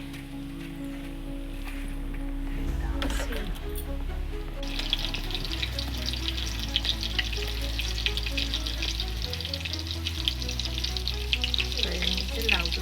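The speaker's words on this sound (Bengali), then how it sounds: "তেলটা তিনটে কাঁচা লঙ্কা তেলের মধ্যে দিয়ে দিচ্ছি" Three green chilies dropped into hot oil tempered with nigella seeds, a steady close sizzle and crackle of frying for Bengali bottle gourd and mung dal, with soft stirring scrapes throughout.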